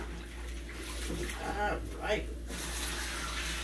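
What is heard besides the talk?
running tap water, washing hands at a sink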